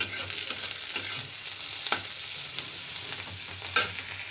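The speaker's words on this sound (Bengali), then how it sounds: "এটা পেঁয়াজটা ভেজে নিচ্ছি পেঁয়াজটা ভাজতে একটু নুন দিলে পেঁয়াজটা তাড়াতাড়ি ভাজা হয়ে যাবে" Onions fry in a pan with a pinch of salt for a fish chachchari, giving a steady close hiss with occasional scrapes and clinks of stirring, and no voices.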